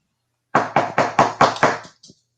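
Six rapid, evenly spaced knocks rap out loud and close, followed by a fainter seventh, imitating Bigfoot tree knocking.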